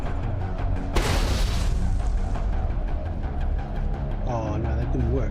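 A grenade explosion in the video game Mass Effect bursts out as one loud, broad boom about a second in and rumbles off over continuous game sound, with voices and effects carrying on afterward.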